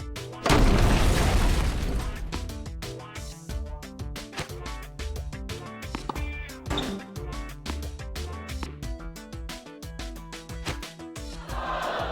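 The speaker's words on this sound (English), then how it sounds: "You get some slowdown there when the explosions are happening." Explosions in the tennis video game Virtua Tennis 3 on PS3: a loud booming blast at the start, followed by a dense run of rapid popping bursts and game sound effects that continue steadily.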